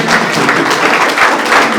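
Applause at a foundation's general assembly approving a plan by acclamation, a short dense burst of many hands clapping steadily throughout.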